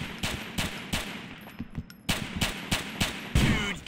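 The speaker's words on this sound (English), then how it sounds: "Don't make me shoot you!" Gunfire in GTA IV during a free-roam police shootout, a string of sharp, loud shots with a rapid burst near the end, fired at close range with no talking.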